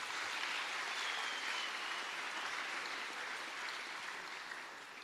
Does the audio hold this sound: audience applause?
yes